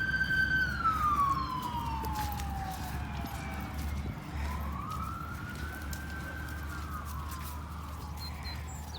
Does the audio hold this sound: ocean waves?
no